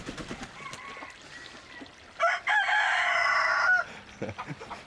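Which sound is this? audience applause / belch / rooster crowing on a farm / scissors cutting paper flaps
rooster crowing on a farm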